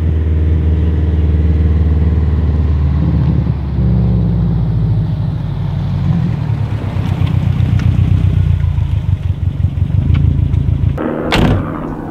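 A car drives steadily with a continuous low engine rumble and road noise, some wind buffeting on the microphone, and a brief sharper burst near the end, with no talking.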